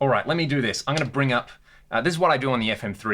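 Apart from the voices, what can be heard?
No everyday noise stands out behind the speech.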